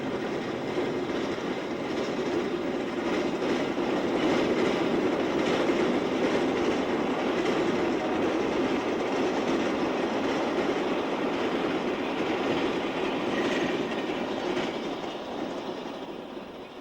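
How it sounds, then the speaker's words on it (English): Rare EMD NW5 switcher locomotive pulling passenger cars on the Wabash Railroad, giving a steady rumble of rolling stock with clickety-clack wheels and faint squeal, holding loud then fading slightly at the end. "The passenger equipment follows, pulled by a 4th Street Union Depot switcher."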